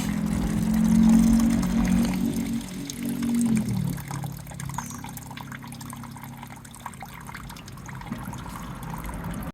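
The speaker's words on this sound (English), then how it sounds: "drain off the coolant" Coolant drains from a VW, Audi or Skoda car in a steady, close pouring gush that trails off after a few seconds into a thinner trickle and dripping.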